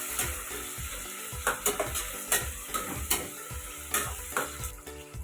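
Potatoes and beans fry with browned onions in a pan for a South Indian dish, sizzling constantly while a spoon scrapes and knocks against the pan in irregular strokes, close by and without any talking.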